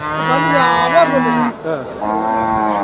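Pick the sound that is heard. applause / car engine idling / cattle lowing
cattle lowing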